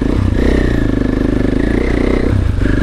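An enduro motorcycle engine revs loud and close, its rough pulsing exhaust note swelling and easing in waves with a rattling mechanical clatter throughout.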